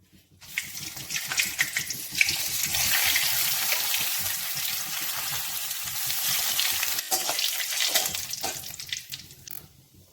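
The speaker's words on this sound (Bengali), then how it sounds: "আর ফোড়নের জন্য জিরে, শুকনো লঙ্কা, তেজপাতা নিলাম। তেল এধারে গরম হয়ে গেছে।" Cumin seeds, dried red chili and bay leaf hitting hot oil for a bottle gourd and moong dal curry, bursting into a loud, continuous close sizzle that holds steady and then slowly fades.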